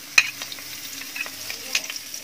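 Ginger frying in a pan for bangus sinigang, a soft close sizzle with a few light utensil clicks and taps scattered across the short stretch.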